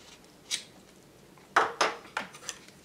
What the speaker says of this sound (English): We're going to use just a regular knife and carve the pumpkins.